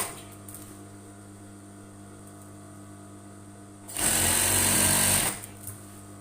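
A sewing machine stitches a half-circle skirt, whirring loudly and close in one steady burst of about a second and a half after a quiet lead-in.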